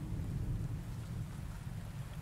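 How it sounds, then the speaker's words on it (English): Heavy rain in the video game Rainswept, a steady, dense downpour with a deep rumbling low end like distant thunder, continuous and uninterrupted with no voices. "I can't hear you from the rain."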